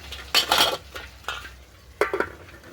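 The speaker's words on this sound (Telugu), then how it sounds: "ఇప్పుడు మనం మూత పెట్టుకుందాం." A lid goes onto a pan of mushroom and tomato curry cooking over a high flame: a few metallic clanks and scrapes, close and fairly loud, spaced about a second apart with a faint sizzle between them.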